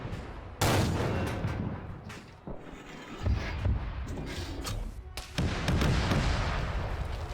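Gunfire in Arma 3 during a Korean War themed operation, with dense, loud shots and heavy thumps running through most of the stretch, broken by a few brief lulls.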